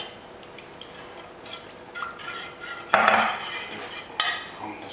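A spoon stirs bean sauce and water in a metal pan during home cooking, giving quiet scraping and clinking strokes that swell into a louder clatter near the middle and again near the end, with no one talking.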